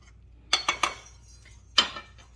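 A spoon clinks and scrapes against a bowl while stirring a seasoning mix with black pepper: a quick run of three sharp taps followed by one more, close and fairly quiet, with no talking.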